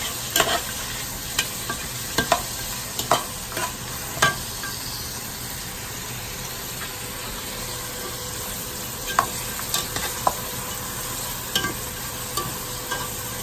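Ingredients for a village-style lamb curry sauté in a pan with a steady close sizzle, while a spoon scrapes and taps the pan in scattered clicks, with no one speaking.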